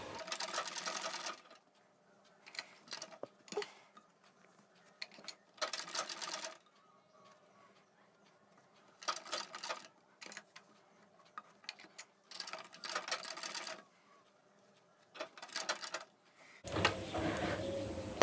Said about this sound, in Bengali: প্রথমে এটাকে আমরা মুড়িয়ে সেলাই করে নেব